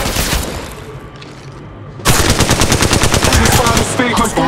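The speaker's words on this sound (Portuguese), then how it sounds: "Disparos feitos contra mim." Rapid automatic gunfire in the mobile shooter game Apex Legends Mobile, a loud sustained burst of evenly spaced shots after a quieter stretch of game noise, with a short pause near the end.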